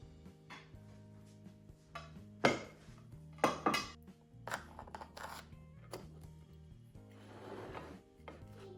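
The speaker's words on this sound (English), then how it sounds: "So let's go ahead and cut a couple of slices." A knife cuts slices of brown butter sweet potato pie in a quiet kitchen, making a few sharp knocks and scrapes of blade against plate or dish, spaced irregularly with soft rustling between.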